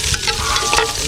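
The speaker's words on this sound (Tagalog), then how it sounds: "At saka ihalo yung sibuyas." Onions sizzle loudly in a pan at an outdoor cooking session while a utensil stirs and scrapes them in quick, close strokes under a dense, steady frying hiss.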